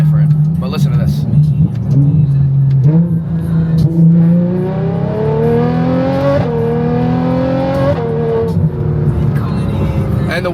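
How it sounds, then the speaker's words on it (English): A Ferrari 812 engine revs hard, climbing repeatedly in pitch through long loud pulls with brief drops between, heard from inside the car with the windows up while a person talks. "It is the loudest car that I've ever heard."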